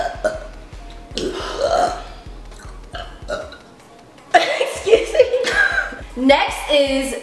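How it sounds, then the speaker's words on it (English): A person lets out a loud burp amid laughter and chatter during a jelly bean tasting challenge, with several bursts of voiced, guttural sound under lively talk. "Hold on, I gotta burp."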